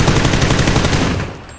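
Rapid automatic gunfire in a video game, a dense burst of shots rattling loud and close for just over a second before trailing off.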